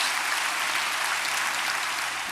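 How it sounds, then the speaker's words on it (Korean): A church congregation at a Wednesday revival service applauds in a dense, steady roar of clapping that fills the whole moment without a break, with no voices rising above it. "우리 하나님께 큰 박수 올려주십시오."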